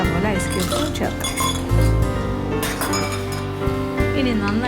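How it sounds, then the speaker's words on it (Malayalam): Ice cubes are dropped into a blender for a mixed fruit milkshake, giving a series of bright clinks and rattles against the jar, heard under a cook's continuous talk in a kitchen. "ഇഷ്ടംപോലെ ഐസ് ക്യൂബ്സ് ചേർക്കാം."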